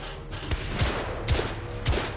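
Gunfire in The Order: 1886 video game, several sharp shots spaced roughly every half second against a steady background of distant battle noise.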